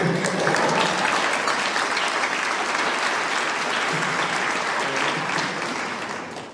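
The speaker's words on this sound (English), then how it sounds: "Of course she's clapping." A graduation ceremony crowd claps loudly and steadily in a dense, sustained wash of applause that eases off slightly toward the end.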